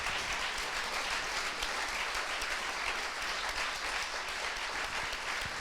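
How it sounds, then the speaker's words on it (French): A live audience at a literary meeting with authors applauds the interpreters, a dense, steady wash of many hands clapping close by that holds at an even, loud level throughout with no talk. "je pense qu'elles méritent un tonnerre d'applaudissements"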